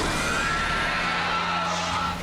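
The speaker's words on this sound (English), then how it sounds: "When he roars, it is so loud and so terrifying" A loud, sustained shrieking roar of the Screaming Death dragon from Dragons: Defenders of Berk, harsh and high-pitched like a monstrous creature, filling the whole clip without pause.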